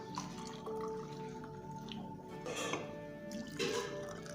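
Hot milk poured into a cup of Nescafe coffee gives a steady liquid trickle with gurgling splashes that swell and fade in bursts, close and moderately loud over faint kitchen background.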